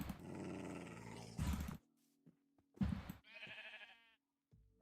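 A tamed wolf in Minecraft gives short low growls and whines between bursts of louder game sounds, the noises coming in separate clipped bursts with silent gaps.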